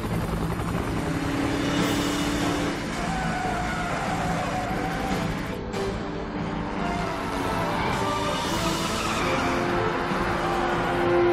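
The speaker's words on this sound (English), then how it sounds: "The chopper's already in pursuit, sir." A film car chase with a police helicopter in pursuit, its loud steady rotor and engine roar filling the scene over rumbling car engines and brief tire squeals.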